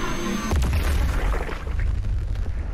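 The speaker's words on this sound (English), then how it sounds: "time to charge this amazing rifle on the shoulder. The shoulder launcher." Shoulder-mounted launcher fires in Doom Eternal, a sudden loud boom followed by a sustained rumbling blast that fills the rest of the moment without any voice.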